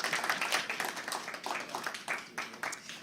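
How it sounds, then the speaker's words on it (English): An audience at an open mic event claps for a performer, a faint, continuous patter of many hands with no voices over it. "Let's give it again, a round of applause for Jane"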